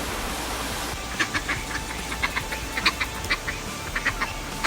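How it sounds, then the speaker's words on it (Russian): Ducks quacking repeatedly in a rapid, chattering series nearby in Antalya, Turkey, waiting to be fed, over a steady background rumble of outdoor noise. "Уточек еще надо покормить"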